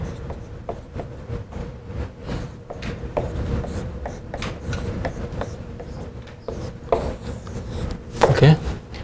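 Marker or chalk writing on a classroom board during a lecture, heard as steady scratchy strokes and taps over a dull room hum, a little louder near the end.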